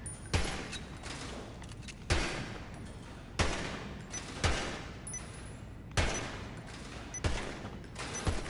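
Gunfire at a shooting range in the video game GTA 5, sharp shots at a steady pace, each ringing briefly before the next, fairly faint and without speech.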